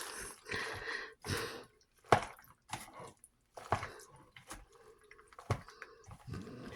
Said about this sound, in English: I'm going to put my bowl in another area so I can stir this up properly for you